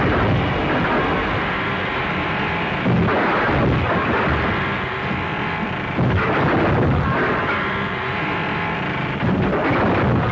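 Gunshots fired from a window in a gritty Western shootout, a series of loud booming reports at irregular intervals, each with a rumbling tail, close and forceful over a dense background.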